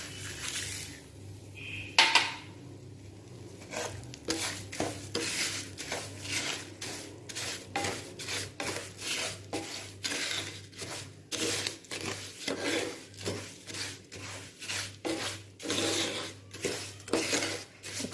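A spoon stirring sugar into semolina roasting in a pan for suji halwa, making repeated rhythmic scraping strokes against the metal, steady and close.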